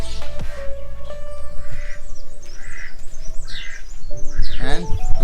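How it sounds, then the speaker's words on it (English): Several birds call at a nature resort in Coorg, Karnataka, with repeated squawks and chirps over a steady low hum, fairly close, alongside faint background voices. "You have some birds here on the left side."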